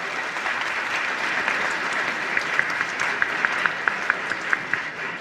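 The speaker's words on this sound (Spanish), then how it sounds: "Un fuerte aplauso entonces," Sustained applause from a seated audience at a coffee forum in Bolivia, a steady dense clatter of many hands with a few sharper claps standing out near the end.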